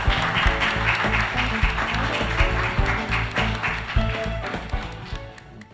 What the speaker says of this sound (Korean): 힘찬 박수와 함께 단상으로 모시겠습니다